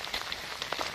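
Rain falling outdoors on a hillside trail, a soft, faint patter of drops hitting surfaces in a brief continuous hiss with scattered light taps, no voices.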